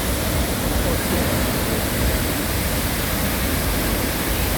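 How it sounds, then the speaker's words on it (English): Arenal waterfall near La Fortuna, a drop of about 30 meters, roars as a dense, steady broadband rush of falling water, loud and close, with no change throughout. "I want to refresh your mind, your heart with the sound of this waterfall."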